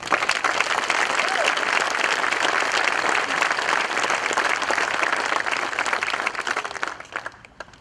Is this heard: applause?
yes